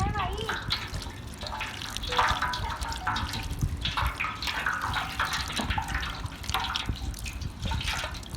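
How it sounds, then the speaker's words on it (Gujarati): Purple yam being scrubbed and washed by hand in a vessel of water, with steady splashing and trickling, close and fairly loud throughout, alongside a person speaking. "જુઓ એકદમ સરસ ઘસી ઘસીને ચોખ્ખું ચોખ્ખું ધોઈ નાખવાનું"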